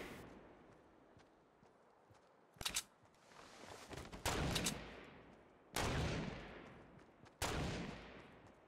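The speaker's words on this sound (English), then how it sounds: "Yeah, they're firing at me, I think." Gunfire in Fortnite, several sharp bursts of shots arriving in separate clusters with quieter gaps between them, fairly distant against a low background.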